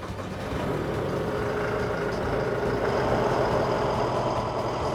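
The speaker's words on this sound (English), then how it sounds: "So let's turn her on and just see how it performs." A Deutz-Fahr 5130 TTV tractor's heavy diesel engine turns over and settles into a loud, steady low rumble of idling that continues without a break.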